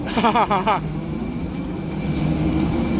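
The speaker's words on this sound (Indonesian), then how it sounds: "Ini kita pakai shuttle bis dari turun pesawat tadi menuju ke terminal" An airport shuttle bus carries passengers from the plane to the terminal, its steady engine and cabin rumble droning throughout, with a brief burst of nearby voices at the start.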